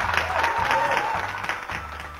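Dense applause from spectators in an ice arena during a figure skating practice session at the 2019 Moscow Grand Prix, a steady wash of clapping with a low hum of the rink beneath.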